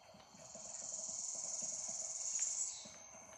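Horse hooves in The Legend of Zelda video game, a faint, steady run of quick hoofbeats under a high, continuous hissing tone, with no voices.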